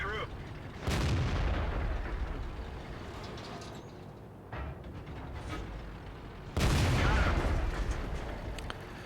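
Two heavy tank cannon blasts in World of Tanks, the second a shot striking an enemy tank's lower glacis; each booming report rolls off into a long rumbling tail, with quieter battle noise between.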